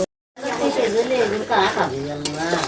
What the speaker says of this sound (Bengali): সবজি এখানে বাগার দিয়ে দিচ্ছি পরে গরম মশলার গুঁড়া দিয়ে দিব